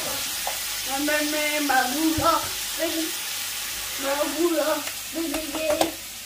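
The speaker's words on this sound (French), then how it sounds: "un filet d'huile d'olive dans ma poêle, je mets le tout" Sliced bell peppers cook in olive oil with salt and herbes de Provence, a steady sizzling hiss in a pan running beneath intermittent voices talking nearby in a home kitchen.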